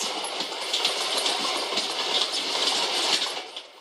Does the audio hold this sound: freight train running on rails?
yes